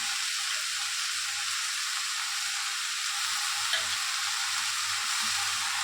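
Lentils sizzle and fry steadily in a hot pan as they are stirred with onion-leaf sabji, a continuous close hiss with faint scraping and no talk.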